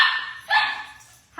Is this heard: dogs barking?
yes